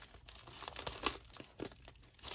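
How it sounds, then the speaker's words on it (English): A mail package being carefully opened by hand, with soft crinkling and a few sharp tearing bursts of paper or plastic, close and fairly quiet, with no talking. "Trying to be careful opening this so I don't rip anything."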